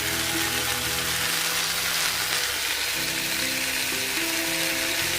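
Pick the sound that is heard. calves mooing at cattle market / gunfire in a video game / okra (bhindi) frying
okra (bhindi) frying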